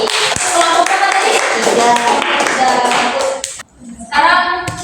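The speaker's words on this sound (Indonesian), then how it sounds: "tepuk tangan dulu untuk Hesti" Classroom applause for a pupil named Hesti during a micro-teaching lesson, a burst of children's hand claps with voices mixed in, a short pause, then clapping picking up again near the end.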